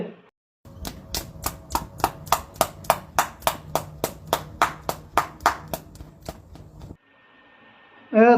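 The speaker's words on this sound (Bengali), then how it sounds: "मैं तालियां बजाऊंगी" Hand clapping in a steady, even rhythm: about twenty sharp claps close by, with a short bit of voice before and after, in a Rohingya comedy skit.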